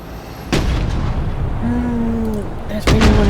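Two heavy blasts of mobile artillery fire in the war video game Broken Arrow, one early and one near the end, with a steady rumble and faint tonal whines between them.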